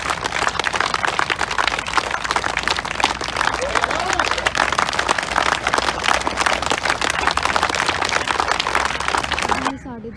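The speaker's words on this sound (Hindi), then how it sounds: "बजाओ ताली," A group of police sub-inspector trainees claps hands together on an outdoor training ground after warm-up exercise, dense and steady applause lasting several seconds before it stops abruptly, with faint talk mixed in.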